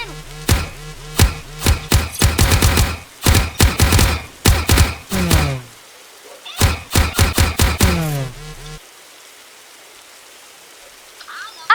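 Rapid bursts of gunfire in the video game 99 Nights in the Forest, fired at an alpha wolf, with loud repeated cracks in clusters, a short gap, then another volley before things go quiet.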